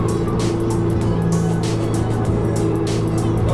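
A Nissan GT-R sports car roars past on the road, heard from inside another car as a loud, steady rush of engine and road noise that swells briefly.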